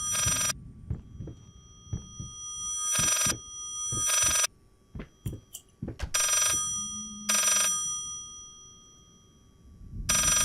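Old telephone bell ringing in the horror video game Layers of Fear, loud repeated bursts of ringing separated by pauses, over low footsteps and ambient rumble with no talking.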